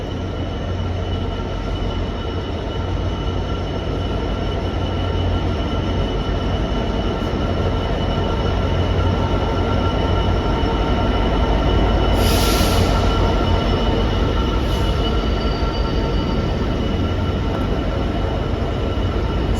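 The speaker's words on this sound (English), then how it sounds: "the train is coming in" A train rumbles steadily into a station, a constant heavy roar with a brief high wheel squeal partway through and no voices.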